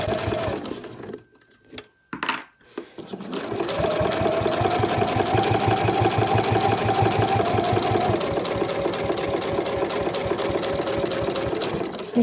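A sewing machine stitches a larger travel wallet panel, whirring steadily and close after a few brief starts and stops, its rapid needle rhythm holding at an even pace.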